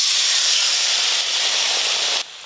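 Mango kasundi mustard sauce, thinned with water, hits a hot pan for a prawn and eggplant sour curry, giving a loud, steady hissing sizzle that carries on without a break and then drops off abruptly near the end.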